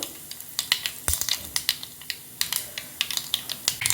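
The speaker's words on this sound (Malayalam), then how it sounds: "കടുകൊക്കെ പൊട്ടി വന്നു" Mustard and cumin seeds spluttering in hot oil: quick, irregular pops and crackles, close by and fairly faint, with no talking.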